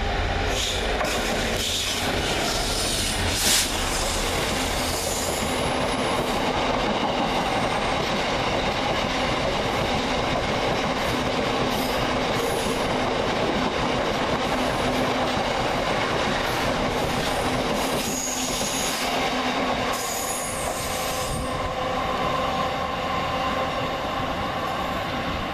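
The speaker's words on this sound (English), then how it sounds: "a bit of freight action now as 66776 hauls 4 Yankee 19 from Mountfield Sidings to Southampton Western" A freight train hauled by Class 66 locomotive 66776 passes through Twickenham station, a long steady rumble of wagons with rhythmic wheel clatter and some squealing, close and continuous throughout, with no talking.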